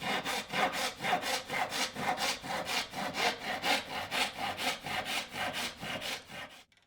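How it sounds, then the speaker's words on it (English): Hand saw cutting a wood board down to width, steady rhythmic back-and-forth rasping strokes, close and even, about two per second, ending abruptly. "So I'm cutting it down to width now."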